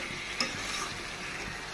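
Elephant apple fries in a pan as sugar is added, giving a quiet, steady sizzle with light stirring scrapes and one small clink.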